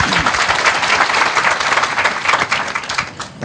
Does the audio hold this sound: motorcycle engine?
no